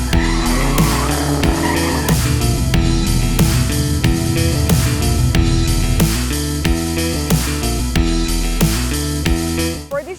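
Race car at the 8th leg of the National Slalom Series at Robinson Star Mills, Pampanga, with tires skidding and squealing under loud, dense sound that also carries music-like tonal layers, steady for the whole stretch.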